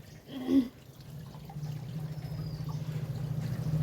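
Water pours steadily over fish being washed to rinse off loose scales, a continuous close trickle that builds after a brief soft clatter at the start.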